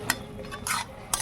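Spinach being stirred in a pan with cumin powder, a few short scraping, rustling bursts of a spoon against the pan at close range, separated by quiet gaps.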